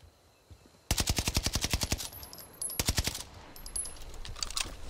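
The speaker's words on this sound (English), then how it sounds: "They're shooting me!" Automatic gunfire in an online battle-royale shooter on the Caldera map: a loud, rapid burst of evenly spaced shots, a short pause, then a second shorter burst, with faint game sounds continuing afterward and no talking.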